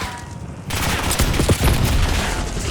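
Rapid gunfire in a Marvel Heroes game, a loud burst of shots crackling over busy action noise, close and sustained after a sudden start.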